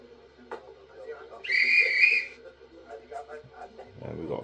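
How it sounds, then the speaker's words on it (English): Guard's whistle sound effect from a DCC sound-fitted Dapol O gauge model autocoach: one shrill, steady whistle blast of about a second, played through a small speaker between quiet knocks and handling noises. "So we've got F2, guard's whistle."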